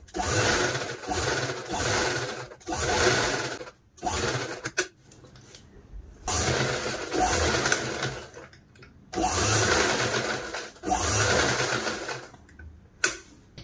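Sewing machine stitching a fabric strip onto a cloth seat cover for a puja asan, running loudly in several bursts of a few seconds each with brief pauses between them.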